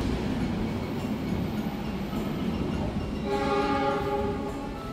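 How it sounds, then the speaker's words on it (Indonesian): A Jayabaya stainless-steel passenger train rumbles steadily nearby as it arrives at a station, then a horn sounds with a sustained tone before the noise eases slightly. "Ada kereta masuk tuh."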